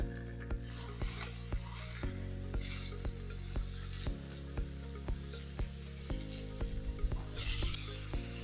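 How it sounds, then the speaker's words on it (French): Merguez sausage pieces sizzle in a hot pan at a campsite, a steady close crackling fry with scraping stir sounds and a low humming tone running underneath. "Les merguez dans la poêle bien chaude."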